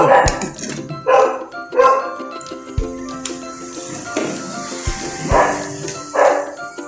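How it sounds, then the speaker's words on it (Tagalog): A dog barks in short, separate bursts at irregular intervals, fairly close, with a few sharp knocks between barks. "maingay yung aso sa kabila"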